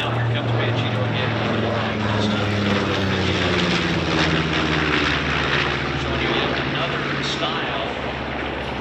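A B-25J Mitchell bomber passes at an air show, its twin radial propeller engines droning loud and steady throughout with a shifting pitch as it flies by, a commentator talking over the roar.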